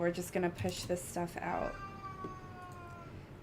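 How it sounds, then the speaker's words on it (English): A cat lets out a long, loud, drawn-out meow right after a person speaks a short sentence nearby. "I apologize if you heard my cat meowing very loudly and rudely in the background."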